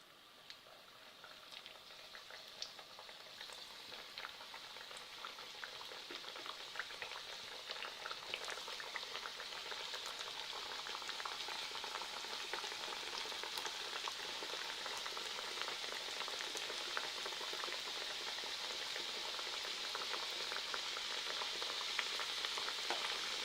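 Stuffed carrot sweets deep-frying in about a quarter litre of hot oil, a steady bubbling crackle that grows slightly louder and continues evenly throughout, close and without talk.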